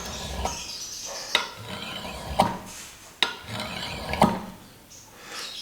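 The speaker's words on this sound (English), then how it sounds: "we can take our burnisher and we just start to roll the edge over" A burnisher rolls the edge of a high-speed steel card scraper made from a putty knife: repeated rasping metal-on-metal strokes, about five firm scrapes with brief pauses between, close and fairly loud, no voices.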